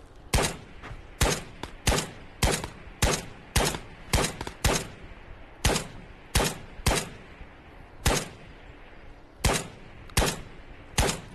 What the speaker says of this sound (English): Can you not shoot through this fucking fence?